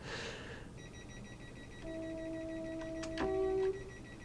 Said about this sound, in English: That alarm is frustrating